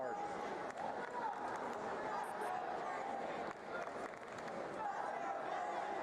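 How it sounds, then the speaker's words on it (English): A crowd at a 2016 state wrestling championship match roars steadily, a dense wash of cheering and chanting voices that fills the whole stretch without a break. "And you can hear the crowd, let's go Casey"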